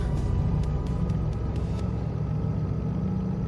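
Diesel freight locomotive engine under throttle in the Derail Valley train simulator, a steady low rumbling drone with faint clicking early on, continuous and fairly loud.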